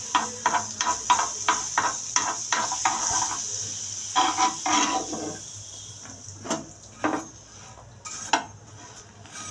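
Vegetable sandwich roasting in butter on a hot pan, with a run of light scraping and tapping clicks of a spatula against the pan over a soft steady sizzle, sparser toward the end.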